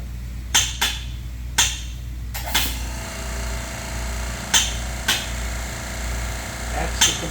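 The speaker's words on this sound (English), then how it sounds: "That's the compressor you're hearing, that's the pump you're hearing." The compressor and pump of an electrostatic sprayer kick on partway through, bringing in a steady broadband whir. Sharp, hard knocks and taps land at irregular intervals before and during it, close and fairly loud.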